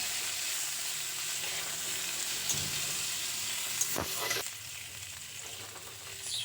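Drumstick pieces and raw banana fry lightly in oil in a wok, giving a close, steady sizzle with a brief clatter of stirring partway through and no speech.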